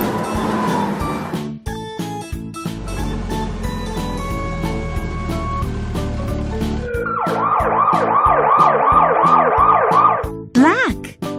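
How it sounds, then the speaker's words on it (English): A fire engine siren wails in rapid repeated rising and falling sweeps, loud and close, following a stretch of light musical tones and plucked notes. "Fire engine."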